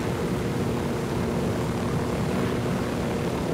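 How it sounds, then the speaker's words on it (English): A helicopter in Ghost Recon Wildlands flies with a constant, dense rotor and engine roar that stays steady and close throughout, with no speech. "The helicopter is the fastest way around the map"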